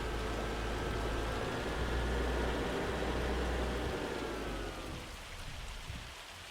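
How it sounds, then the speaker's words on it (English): Heavy hail and rain pelting down in Farming Simulator 25 weather, a dense, loud, steady wash of hard drops and rumble that eases and thins toward the end. "looks like we got some hail coming in."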